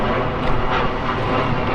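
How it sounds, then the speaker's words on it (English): Airplanes departing National Airport pass overhead in Washington, D.C., a loud, sustained jet roar that fills the short clip without pause and with no talking. "Planes going out of National Airport,"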